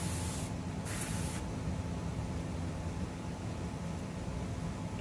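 An airbrush sprays paint in a test burst, giving a steady close airy hiss that runs throughout, with two brief brighter pulses near the start.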